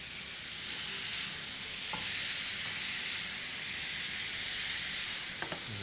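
Sweet and sour glazed pork chops sizzle steadily on a grill, a broad, even hiss with a couple of faint clicks, close and continuous with no talking.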